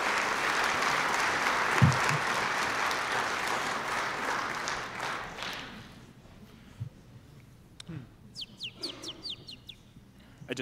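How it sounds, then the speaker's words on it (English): Audience applause at a TEDx talk, a broad wash of clapping that fills the first half and then fades away, leaving a quieter room with scattered small sounds. "Give them a round of applause as they make their way up to the stage"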